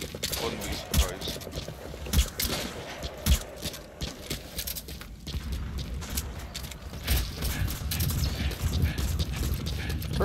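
Video game gunfire aimed at the player: scattered sharp cracking shots and clicky mechanical impacts arrive irregularly over a busy background, moderately loud, with a voice speaking intermittently.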